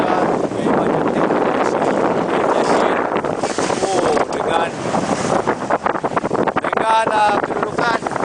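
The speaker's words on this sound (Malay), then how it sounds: "Sekarang angin lebih kurang dalam 18 knot." Strong wind of about 18 knots roars steadily across the microphone aboard a sailing yacht at sea, loud and gusting without pause, with a voice speaking faintly under the buffeting.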